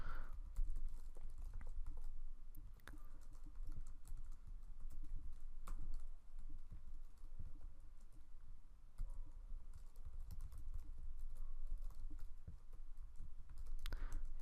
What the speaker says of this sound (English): let me just go to the console again, and let me just type real quick again